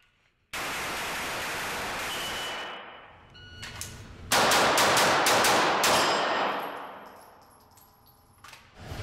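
Practical shooting gunfire at targets during a USPSA or 3 Gun drill, a quick burst of sharp shots in the middle following an earlier stretch of steady noise, fairly loud and without talk.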